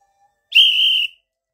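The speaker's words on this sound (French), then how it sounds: "Sur ce coup de sifflet magistral" One sharp, shrill whistle blast, short and loud, with silence before and after.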